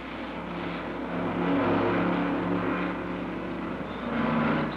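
Cars picking up speed on wet pavement during a braking test, a steady engine drone that swells as they approach and accelerate, a mid-distance rumble with no talk.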